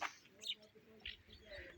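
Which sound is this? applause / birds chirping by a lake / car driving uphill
birds chirping by a lake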